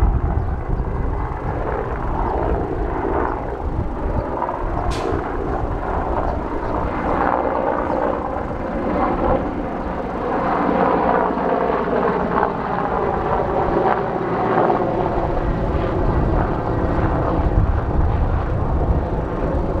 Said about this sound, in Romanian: la fața locului a ajuns și elicopterul Unității Speciale de Aviație de la Iași pentru a monitoriza pagubele din zonă